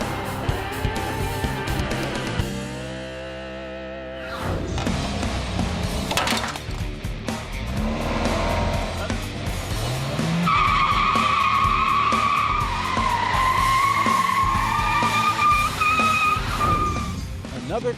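A 2013 Chevy Trax drives away, with steady road and tire noise and a skidding edge held at an even level throughout, under a tonal backing sound.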